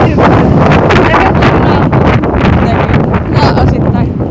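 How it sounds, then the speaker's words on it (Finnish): Strong outdoor wind buffets the microphone, producing a loud, continuous, gusting roar that fills the whole stretch. "Täällä vähän tuulee."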